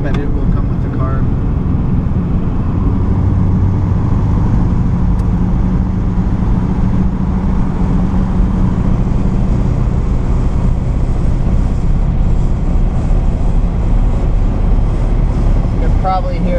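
Constant low rumbling wind and road roar inside a moving 1949 Ford Deluxe with poorly sealing windows and doors, loud and unbroken throughout, with a faint voice buried under it.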